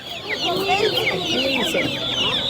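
A flock of chickens clucking and chattering continuously nearby at a Guatemalan Maya village market, many overlapping calls with a busy farmyard murmur.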